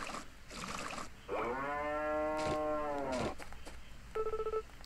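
A cow in the 3DS farming game Story of Seasons: Trio of Towns lets out one long, clear, steady moo, followed by a few beeping menu tones, over a quiet game background with no speech.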